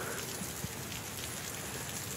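Continuous rain falling at a Thai forest monastery, a dense, even hiss of drops on surfaces with occasional soft patters, steady and fairly faint, with no speech.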